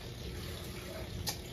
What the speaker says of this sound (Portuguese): A máquina tá enchendo pra terminar de enxaguar lá.